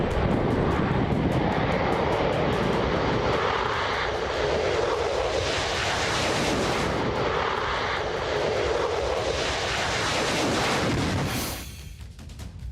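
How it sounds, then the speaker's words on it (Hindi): An F-15 fighter jet flies with a powerful, continuous engine roar, loud and close at first, shifting in tone midway, then dropping away abruptly near the end. "F-15 फाइटर जेट ने आसमान में परवाज किया।"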